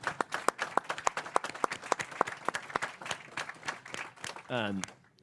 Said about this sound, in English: So I wanted to give them a round of applause.